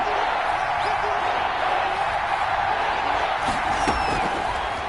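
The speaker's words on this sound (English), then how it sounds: "the crowd getting into it as we come up on a big 3rd down" A stadium crowd in an NFL football video game roars steadily and loudly throughout, a continuous wash of cheering with scattered whoops rising near the end.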